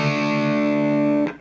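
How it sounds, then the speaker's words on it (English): A distorted electric guitar hammers on and sustains a bright two-note double stop for about a second before it is cut off abruptly. "hammering on the 5th, 7th to 9th, and then playing our double stop on the 7th."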